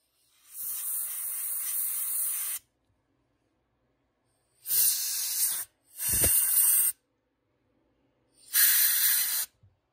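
Cleaner sprays onto an ATV carburetor in four hissing aerosol bursts, the first long and the rest shorter with brief silences between, close and loud with no voices.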